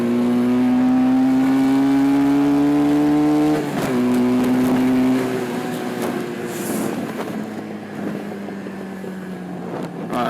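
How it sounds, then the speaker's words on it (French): A vehicle engine decelerating after a loud steady drone, its exhaust crackling and popping in scattered bursts as the revs fall away, fairly close and with no talking. "D'ailleurs ça s'entend, hein, la décélération, ça pète dans l'échappement"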